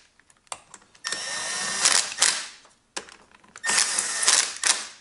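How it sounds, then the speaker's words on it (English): A ratchet wrench tightens engine frame bolts during a GY6 engine swap on a Honda Ruckus scooter. Close, quick clicking comes in two bursts, separated by brief pauses. "I'm just getting them kind of tight for now."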